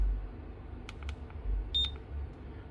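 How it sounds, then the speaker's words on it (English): Beep from the button on an Auskang smart wallet when double-pressed to connect, a brief high electronic tone near the end, heard faintly over low background noise with a few soft clicks before it. "Double press, it gives a beep, and that's actually trying to connect to your iOS device."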